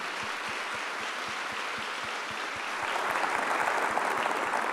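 An audience applauds at a church talk, a fairly faint, even wash of clapping from a crowd that swells a little toward the end.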